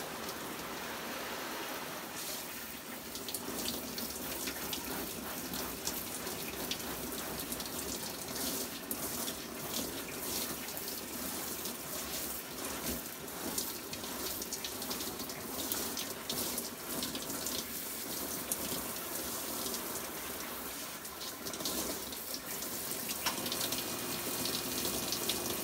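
Water from a basement shower runs steadily, rinsing slime off a freshly hydro-dipped item: a constant, even hiss of spray and splashing that lasts throughout with no talking.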